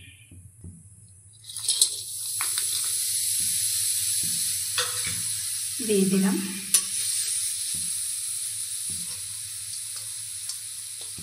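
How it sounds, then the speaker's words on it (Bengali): Jaggery dropped into a hot wok for a popped-corn sweet, hissing and sizzling as it melts while being stirred, a quiet start then a steady fizz with a few scraping clinks. A brief voice speaks. "তো আমি গুড় এখন কড়াইয়ে দিয়ে দিব।"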